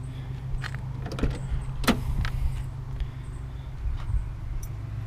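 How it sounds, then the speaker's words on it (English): Power window motor of a 1993 Oldsmobile Cutlass Ciera S, a low steady whir running through the whole stretch, close by, with a few small clicks and a short sharp knock partway through, no talking. "Got power windows, power locks"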